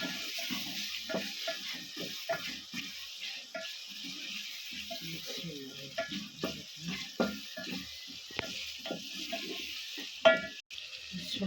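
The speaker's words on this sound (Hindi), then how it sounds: "ये देखिए हमारा अदरक लहसुन में ब्राउन हो चुका है माशाल्लाह। ये अब हम टमाटर डालने लगे हैं इसमें।" Tomatoes sizzle softly in a pan of browned ginger and garlic for a daal mash dish, a quiet, steady frying hiss broken by stirring scrapes and a sharp clatter near the end.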